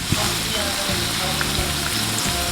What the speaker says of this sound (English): So I'm just gonna let it saute for me